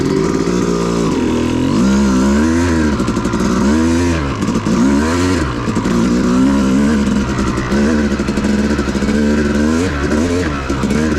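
Yamaha YZ250 two-stroke dirt bike ridden on sandy whooped trails at Manchester OHV, its engine loud and close, pitch surging and dropping in quick waves as the throttle opens and closes over the bumps.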